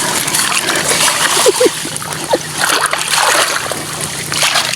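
A cellphone slips into water while a snakehead fish is being caught, producing a loud splash and sloshing, with water churning and dribbling close by for several seconds.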